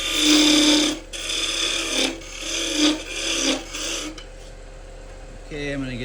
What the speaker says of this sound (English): Just going to go ahead and use a parting tool, making sure I'm like at least 1 inch away from that connection.